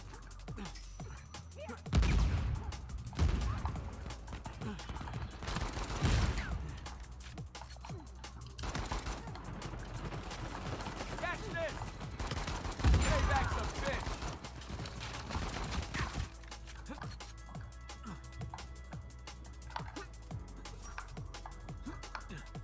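Gunfire in Uncharted 4 multiplayer, with scattered shots and bursts layered into a dense, busy game mix that runs throughout.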